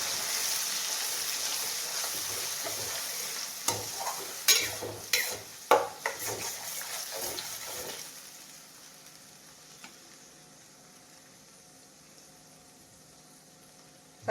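Dried pea curry being stirred and mixed in a frying pan, with a run of distinct scraping clunks from the spoon against the pan over a steady sizzle, then the sizzle fading to a quieter simmer.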